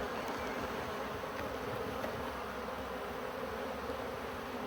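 A honeybee swarm clustered on a tree branch fills the air with a dense, continuous buzzing hum, steady and close, with no voices.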